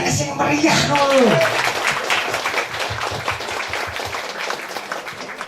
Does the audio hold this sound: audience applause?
yes